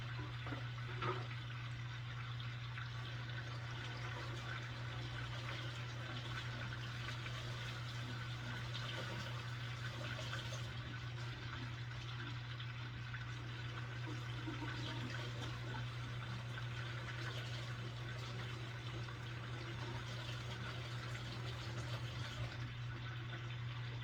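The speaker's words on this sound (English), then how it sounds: "doing it in the sink will do it" Water running steadily into a kitchen sink while hands are washed of bacon grease, a constant soft rushing stream under a low electrical hum, with no talking.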